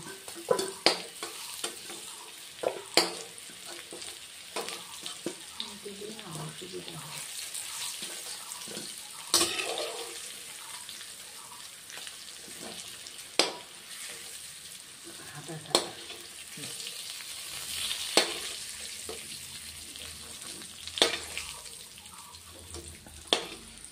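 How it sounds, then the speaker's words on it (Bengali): Potatoes fry in a pan with a continuous close sizzle, punctuated by frequent spatula scrapes and taps against the pan, steady and unhurried over the whole stretch. "আলু ভাজা হয়ে গেছে, এবার আলুটা নামিয়ে দিচ্ছি"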